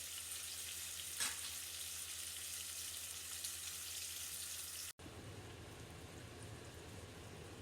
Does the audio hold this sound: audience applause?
no